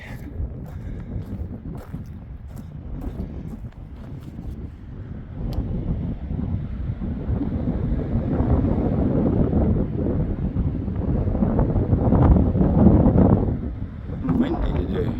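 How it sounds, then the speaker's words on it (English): Strong wind blows outdoors near cliffs, roaring and buffeting the microphone in a steady rush that swells louder midway. "Windy today."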